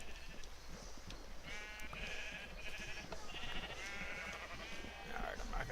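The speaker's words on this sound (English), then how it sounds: "I'm not going to shear all the sheep." Sheep in the game Minecraft bleat several times in a row, wavering calls that come and go at moderate volume over low background noise.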